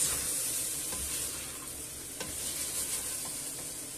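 Potatoes and chickpeas stirred around in a hot pan, a steady close sizzle with scraping and shuffling from the spoon moving the pieces about.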